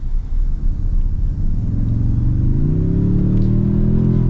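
A 2026 Toyota Tundra iForce Max hybrid pickup accelerates hard under a big throttle input, its engine note a loud, steady rumble that climbs in pitch over about four seconds, close and continuous with no talk.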